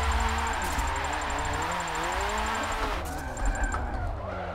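A hot hatch car drifts with its engine held at high, steady revs throughout. Pitch rises and falls as the throttle shifts, and there is a brief surge near the end.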